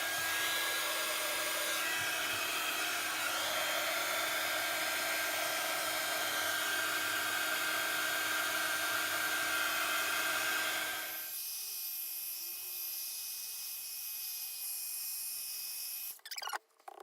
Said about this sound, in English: you can take your heat tool and you can dry it a bit quicker. And so I'm going to use my heat tool.